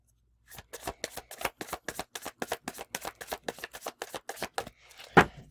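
Rune reading cards being shuffled by hand: a rapid run of crisp, close riffles and slaps in a steady rhythm, about twenty quick strokes, ending with a louder final knock as the deck is squared.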